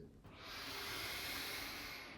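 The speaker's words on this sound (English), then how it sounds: "Breathe out, drifting back down again." A long, slow exhale during a Qi Gong breathing exercise, a soft airy hiss that swells and holds steadily for about two seconds, close and quiet, with no talk.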